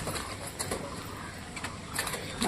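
Pigeons gathered to eat mustard seeds give soft coos and light rustles of movement, faint and intermittent, with no voices.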